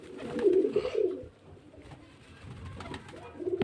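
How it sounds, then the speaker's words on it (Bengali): Pigeons at a house where birds are kept for sale, a few low throaty coos close by, a pause, then more soft cooing toward the end. "এখান থেকে পায়রা সেলের জন্য পাওয়া যায়।"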